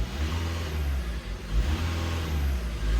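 A VW TDI diesel car engine is revved up and down while parked, its close, steady drone swelling and easing in a few gentle cycles, with no one talking.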